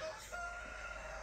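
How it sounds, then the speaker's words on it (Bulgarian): Roosters crow in a quiet small town, a clear sustained call rising out of soft outdoor ambience, moderately close and alone. "Ето ги, пак петлите."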